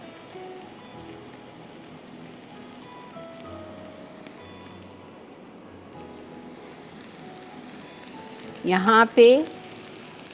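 Gola kebabs sizzle on a hot sizzler plate, giving a steady crackling hiss throughout that sits under brief bursts of talk near the end.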